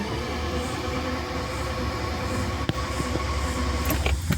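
A 1988 Jaguar V12 Sovereign barn find cranks over without firing, a continuous mechanical starter drone with no compression, steady and fairly loud, with a few clicks near the end.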